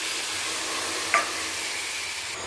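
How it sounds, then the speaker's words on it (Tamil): A pan of tamarind-based vatha kuzhambu gravy with sundakkai simmers, giving a steady soft hiss and bubbling with one brief clink midway, with no talking. "இது நல்லா கொதிக்கணும்."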